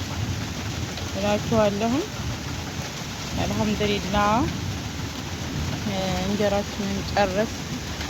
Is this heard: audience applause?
no